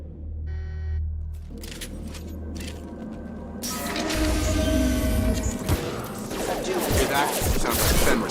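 Clanking mechanical combat noise from Fenris mechs in Mass Effect 2, with metallic whacks, crashes and gunfire-like bursts building to a loud, dense clatter in the second half.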